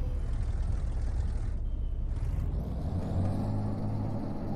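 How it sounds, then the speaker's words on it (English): Truck engine revving in Euro Truck Simulator 2: a loud, steady diesel rumble heard with no talking, briefly dipping then rising again into a deeper, throbbing drone as the revs shift. "Let me rev her up."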